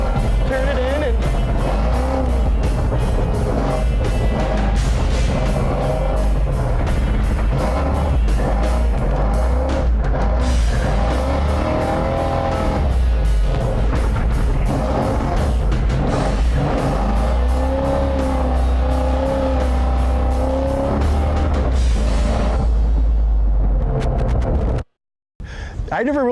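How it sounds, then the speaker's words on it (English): A truck drifting through a long sweeping turn, its engine roaring loud and continuous with revving swells and tire noise, cutting out abruptly near the end before resuming. "now we're going to be entering the drift zone. So this is where the drifting starts"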